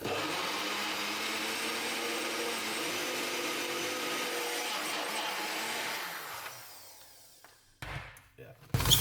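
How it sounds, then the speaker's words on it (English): Small countertop blender whirring steadily as it blends ingredients, a loud continuous motor drone for several seconds, then winding down and stopping, followed by a few handling clatters. "I know that this is not a big blender, so what we're gonna do is blend it up a little bit"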